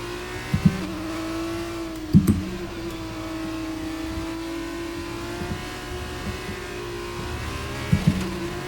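F2 race car engine in the racing video game F1 23 on the Texas circuit, a steady droning engine note held throughout, with a few brief sharper bursts of gear changes or revs, no talking.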